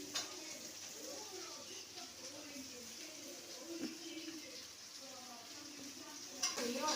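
Sliced onions frying with bitter gourd in a pan for Kerala-style pavakka fry, stirred steadily: a soft, faint, continuous sizzle with light scraping and occasional clinks, close by, and no talk.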